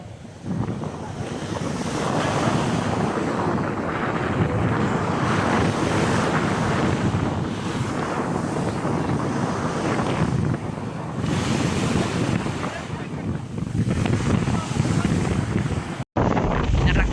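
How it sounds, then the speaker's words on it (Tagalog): Ocean surf roars continuously, waves crashing and washing close by under heavy wind buffeting the microphone. "Yung hampas na alon, no?"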